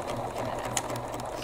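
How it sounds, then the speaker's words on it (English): Sewing machine running steadily while stitching along a pant hem, a continuous close mechanical whir with a faint ticking rhythm of the needle and no talk. "For this step, we brought in the most important piece, the sewing machine."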